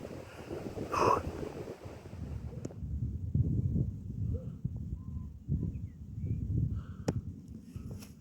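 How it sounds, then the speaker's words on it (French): Light wind on an open hilltop near a small village, rumbling and buffeting against the microphone in soft, uneven gusts, low and fairly faint, with no voices. "Oh, un petit vent, ouais."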